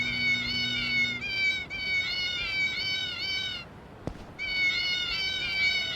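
Cat shoes worn while walking in Yakuza 0 let out a run of long, wavering meows, one after another with brief breaks and a sharp knock near the end, loud and close over game background noise.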